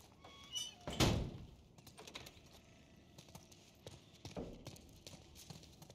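A door thuds shut once in The Last of Us Part I, a single loud close impact near the start, followed by soft scattered footsteps and handling noises in a quiet interior.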